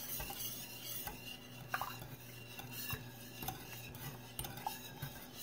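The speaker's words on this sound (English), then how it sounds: "So I'm just going to stir that in." A spoon stirs sour cream and Greek yogurt into a chicken enchilada casserole in a pan over low heat, with soft scraping and occasional clinks against the pot, close and fairly quiet.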